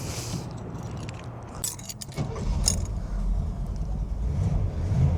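A 1969 Oldsmobile 442 W-30 engine cranks briefly and catches, then settles into a steady, fairly quiet idle with a low rumble, the stock-style mufflers keeping it mild.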